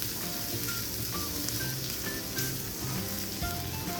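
Already-cooked smoked turkey hisses and sizzles steadily in a hot pan, a continuous close frying crackle at moderate volume with no talking.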